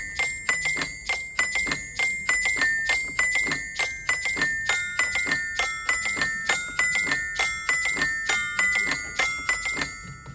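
Bright metallic xylophone notes strike in a quick, steady mechanical rhythm, an automatic xylophone player playing Carol of the Bells as a fast repeating melody with crisp ringing tones.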